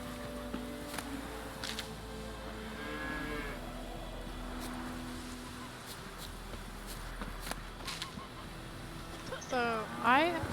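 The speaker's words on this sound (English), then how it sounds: "Is that the cow?" A cow lows with drawn-out moos in the Witcher 3 video game, over a steady bed of outdoor ambience with scattered footsteps and brief clatter, and a sharper burst of activity near the end.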